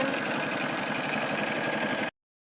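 A sewing machine runs continuously, stitching a zigzag reinforcing seam along the end of a fabric bench cushion cover, a steady close, loud mechanical whirr with rapid needle rhythm that stops abruptly near the end.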